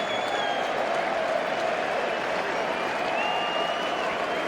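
A large cricket crowd applauds and cheers in a broad, steady wash of clapping and roar celebrating James Anderson's 500th Test wicket, sustained and distant-sounding with no break.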